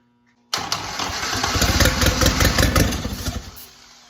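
A WWII-era engine cranks on its starter, then catches with a sudden loud burst and runs roughly with a rumbling, uneven idle that fades slightly toward the end, close and with no voices.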